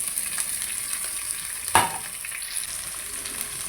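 Onion, green chili, ginger and garlic frying in coconut oil for a mackerel curry, a steady close sizzle with one sharp clink of stirring midway.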